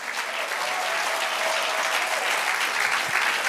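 A church congregation claps throughout, a dense, sustained round of applause that stays loud and even from start to finish.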